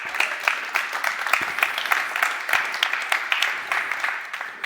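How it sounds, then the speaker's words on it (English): At a tech conference, an audience claps continuously for nearly five seconds as panelists walk on stage, a dense, crackling patter of many hands at moderate volume with no speech over it. "please give them a round of applause as they come on stage"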